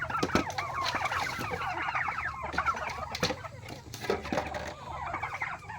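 Many chickens cluck and chatter together nearby, a busy continuous chorus with occasional louder squawks.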